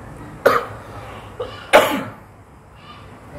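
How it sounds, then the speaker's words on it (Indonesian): Three distinct human coughs, loud and close, the first and last strongest with a smaller one between, followed by quiet room tone. "Ini batuknya namanya nih."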